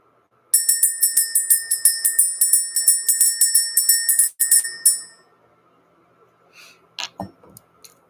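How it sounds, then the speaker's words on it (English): A small bell rings clearly and rapidly for about four seconds, each strike bright and ringing on, then fades. A faint throat clearing follows. "Let's ring this bell."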